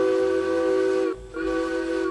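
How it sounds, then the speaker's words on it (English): The whistle of an S282 steam locomotive in the Derail Valley train game sounds as two loud, steady blasts with a short gap between them, close and alone. "just that feeling right there that I get every time that I blow the whistle"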